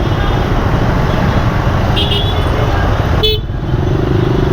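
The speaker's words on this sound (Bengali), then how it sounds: "দেখেন মনে হচ্ছে যেমন বাইকের একটা মিছিল বা বহর মনে হচ্ছে" Motorbikes crowd a Dhaka traffic jam under a loud, constant engine drone, with a couple of short horn toots partway through and another near the end.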